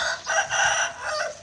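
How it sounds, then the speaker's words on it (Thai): A Thai fighting cock crows in the morning outdoors, a loud, drawn-out nearby call rising and falling in several sustained segments. "มีเสียงไก่ขันด้วยครับเช้านี้"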